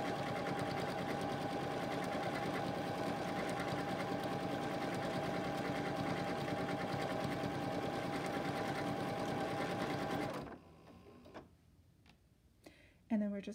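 A Continental M17 sewing machine runs steadily through a repeating decorative stitch pattern, a close, even mechanical whir that stops near the end, followed by brief handling sounds.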